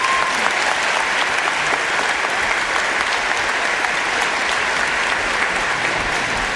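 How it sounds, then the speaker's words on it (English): Applause from a large concert audience at an all-county music event, dense and loud, sustained and even throughout without any break. "Let's give them a round of applause."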